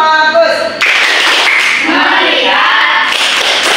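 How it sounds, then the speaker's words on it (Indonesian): Students in a sixth-grade class perform a patterned focus clap, starting with a brief tonal passage before sharp, dense clapping bursts fill the room, mixed with voices chanting along. "kita lakukan dulu tepuk fokus biar kamu semakin bertambah fokus ya"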